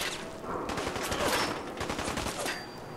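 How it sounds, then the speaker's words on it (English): Submachine gun fire in Fallout 4 crackles in dense, rapid bursts against a constant noisy background, moderately loud throughout. "Oh, submachine gun."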